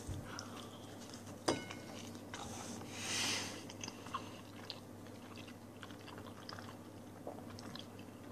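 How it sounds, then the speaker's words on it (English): A mouthful of Papa John's bacon cheeseburger pizza with orange steak sauce being chewed close to the mic, soft wet munching and small crunches after one sharp knock, quiet over a low background hum. "Oh, let me get another bite here."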